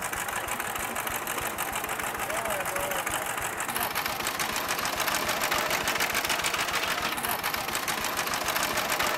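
A tractor engine held in an auxiliary gear at one fixed speed, a steady, dense mechanical chugging and rattle throughout, close and fairly loud, with a faint higher tone drifting above it.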